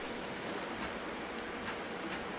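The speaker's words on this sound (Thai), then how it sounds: "เฮ้ยฝนตก" Steady rain falls in the survival video game Under A New Sun, a dense continuous hiss with faint splashing, even and alone without talk.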